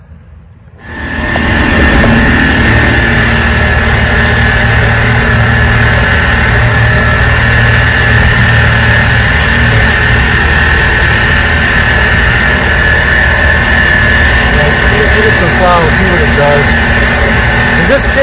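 A 1986 Force 85 hp outboard motor with fuel issues, stalling in forward gear, running on a boat: loud, steady engine drone that starts up and holds constant, with wind and water noise mixed in.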